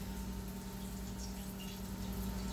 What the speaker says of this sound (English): pour it over your London broil